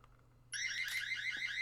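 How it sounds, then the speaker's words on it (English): Proximity alarm being tripped in a video game: silence broken by a sudden shrill, warbling electronic alarm that starts sharply and keeps sounding steadily to the end, close and fairly loud. "As Dakin trips that proximity alarm."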